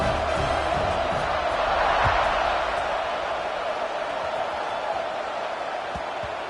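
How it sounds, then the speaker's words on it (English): Stadium crowd at a college football game between BC and WVU, a steady dense roar of many voices holding loud and constant after a score, with no breaks or individual cheers standing out. "this crowd is buzzing after that last score"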